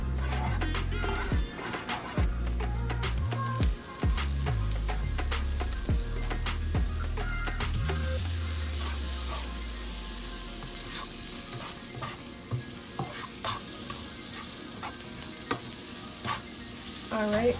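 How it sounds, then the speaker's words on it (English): Peppers and onions fry in butter in a pan with a constant crackling sizzle, stirred now and then, while a low drone fades out early on, with no talking. "let the peppers and onions get coated with the butter and kind of, you know, do its thing and cook up"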